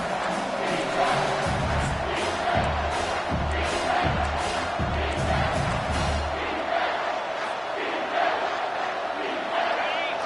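A home stadium crowd roars at a college football game as the defense faces third down, a loud, sustained mass of cheering and yelling with rhythmic low thumps early on, then a continuous roar.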